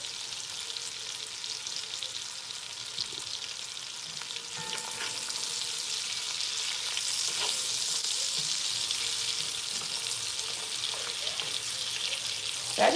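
Sausages for Thanksgiving gumbo fry in a pot with a steady, close sizzle and occasional stirring clinks, sustained and gradually building, with no talking.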